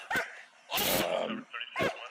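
A police K9 dog, amped up and close by, lets out three sharp barks in quick succession, the middle one longer and ending in a whining, yelping tail.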